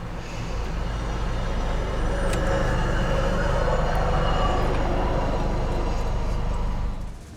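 CSX freight train rolling past a road crossing, a loud steady rumble and rattle of wagons sustained throughout, with a faint high squeal and no voices.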